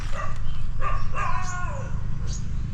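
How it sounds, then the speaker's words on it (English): A dog barking a few times beside a field in rural South Maharashtra, India, heard at moderate distance with short yelping calls over a steady low motorbike engine rumble. "I'm getting barked at by a dog a little bit."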